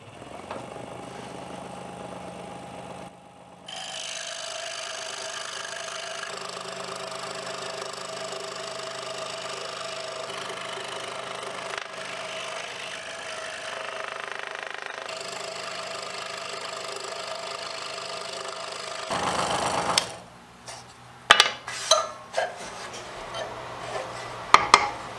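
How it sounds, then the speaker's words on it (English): A scroll saw cuts out a piece of a fiberglass mold. The saw buzzes with a steady, fairly quiet reciprocating hum that shifts as it runs, then stops and gives way to a few clunks and handling knocks. "we'll just cut this out with the scroll saw."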